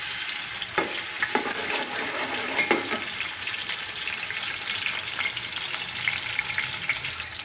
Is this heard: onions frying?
yes